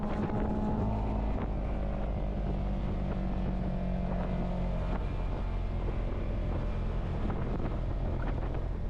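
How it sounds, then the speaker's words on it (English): A Honda S2000 engine runs on a race track as a valve drops, producing a loud, continuous engine drone with strong wind rush throughout and no talking. "you can hear when the valve drops"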